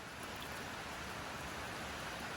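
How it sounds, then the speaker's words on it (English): Rain falls steadily outdoors at sunset, an even, faint hiss of drops with no talk over it. "while it's raining"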